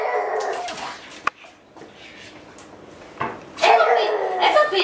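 A pet dog named Botas whimpers and yips for red bell pepper, short high whines broken by a sharp bark, with a person talking to it between the sounds, close and fairly loud.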